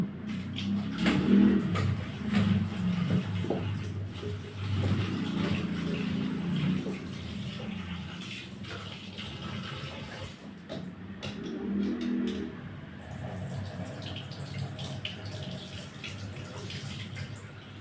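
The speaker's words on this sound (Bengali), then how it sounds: "তিনবার থেকে চারবার আমি সবজিগুলোকে ধুয়ে নেব।" Vegetables being washed by hand in a basin of water, with steady splashing and sloshing that rises and falls in bursts, running water mixed in, fairly close and moderately loud.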